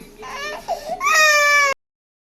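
A small, unwell child cries loudly and close by in a home, with a short whimpering start that rises into a sustained, high wail before cutting off abruptly.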